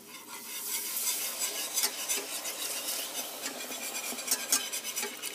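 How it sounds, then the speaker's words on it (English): A whisk works coconut milk into a flour roux for a creamy coconut sauce. Steady, close scraping and swishing runs unbroken throughout, with no talk. "With a whisk, just keep whisking it around to get all the clumps of flour out"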